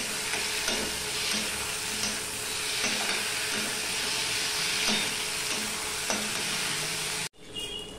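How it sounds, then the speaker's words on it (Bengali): Chopped tomato sautéing in a pan for a taro and fish curry, a steady close sizzle with regular scraping stirs about once a second, cutting off abruptly near the end. "এবার আমি এটা কষাতে থাকবো যতক্ষণ না আবার কাঁচা গন্ধটা চলে"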